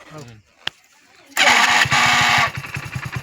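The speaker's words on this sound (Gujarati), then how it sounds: "તમારો બાઇક ચાલુ કર્યો છે" A motorcycle engine starts up close with a loud burst, then settles into a steady, throbbing idle. A voice is heard briefly beforehand.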